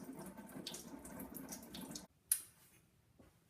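Water pours through a hole in an aquaponics aquarium setup like a small waterfall, a soft, close splashing trickle that cuts off abruptly, followed by a single faint drip in near silence.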